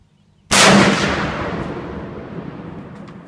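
A Serbu .50 BMG bolt-action pistol fired from a standing position outdoors: one sudden, very loud gunshot that cuts in from near silence, followed by a long rolling echo that slowly fades.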